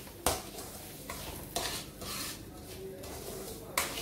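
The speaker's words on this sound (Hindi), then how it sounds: "और फिर हम इसको आस्ता आस्ता से 4-5 मिनट भूनेंगे।" A spoon stirs semolina being roasted in a pan, soft scraping and occasional clinks against the metal repeating at close range over a faint low sizzle.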